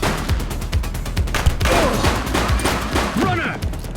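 A rapid volley of gunshots rings out during a police shootout in The Precinct video game, sharp repeated bursts across the whole stretch with a voice calling out over the gunfire.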